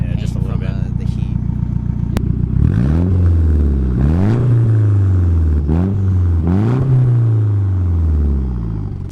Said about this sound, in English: I can hear the turbo spooling down too after the fact.